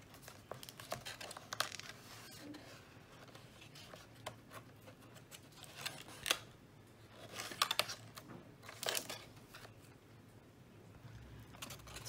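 Scissors or a blade cutting slits into thick paper for a pop-up card, giving soft intermittent snips and crinkly paper rustles at close range with quiet pauses between them.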